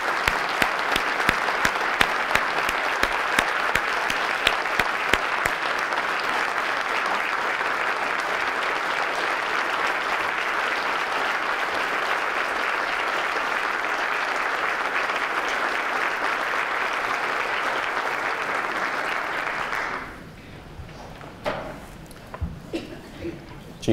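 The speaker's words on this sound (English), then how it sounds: "So I would ask you to give him a round of applause and maybe even a standing round." A room full of people applauding a retiring police chief at a city address, sustained loud dense clapping for about twenty seconds before it abruptly dies away into a quiet hall with a few faint noises.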